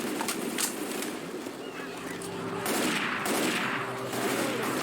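Rapid M16 rifle fire from the zombie shooter Left 4 Dead 2 crackles in a dense, continuous barrage, with brief louder bursts standing out over a busy background of game noise.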